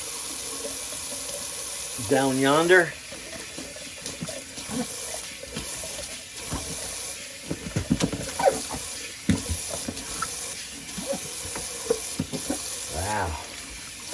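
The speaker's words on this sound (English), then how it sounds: "let's empty the old Sea Monster sink. It definitely needs a quick rinse" Water runs into and drains from a bathroom sink being emptied and rinsed after a shave, a steady close faucet wash with splashes and clinks, while someone talks briefly over it.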